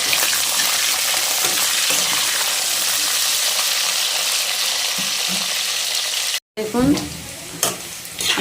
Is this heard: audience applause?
no